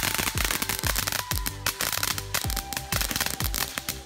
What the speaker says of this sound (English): It's the grand finale of today's firework show.